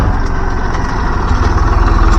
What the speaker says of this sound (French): il y a un petit tracteur